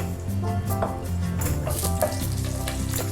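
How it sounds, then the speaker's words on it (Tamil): Cinnamon, cloves and cardamom fry in hot ghee and oil for fish biryani, a dense, close crackling sizzle with stirring clatter and no talk. "எண்ணெய் சூடானதுக்கப்புறமா இந்த மசாலாவை எல்லாத்தையும் ஆட் பண்ணிடலாம்"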